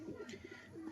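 A pigeon coos softly in a loft, a low throaty rolling burble repeating in quick pulses, faint and close.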